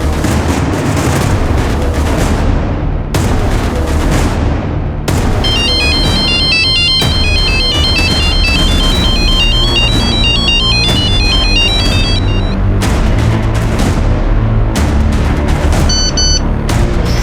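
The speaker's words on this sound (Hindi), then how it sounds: "सुजैन अपना फोन भी नहीं पिक कर रही है" A phone ringtone plays a repeated electronic melody that goes unanswered, sounding alongside loud booming music and dramatic hits in a TV crime drama, with pauses between bursts.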